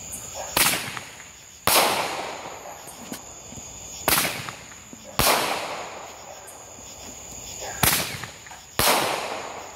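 A Blue Paparazzi candle firework shoots off six sharp, loud bangs at uneven intervals, each followed by a fading crackle and hiss, with a high whistle running through the volley.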